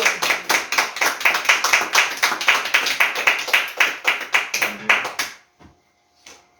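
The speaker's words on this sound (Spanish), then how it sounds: "Dale palmas al que te vive." A church congregation claps hands in a steady, even rhythm, loud and close, for about five seconds, then stops abruptly, leaving near silence with a few faint sounds.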